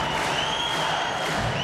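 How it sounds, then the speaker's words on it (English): A dense arena crowd at an M-1 Challenge MMA fight roars steadily, with stamping feet and clapping hands blending into a loud, unbroken wash of noise. "the crowd are stamping their feet, clapping their hands"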